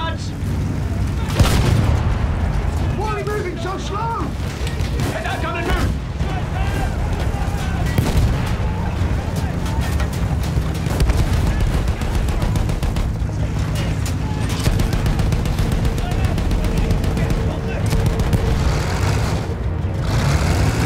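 World War I guns and artillery boom and rattle in Battlefield 1, with loud, continuous rifle fire and heavy blasts under shouted in-game voices.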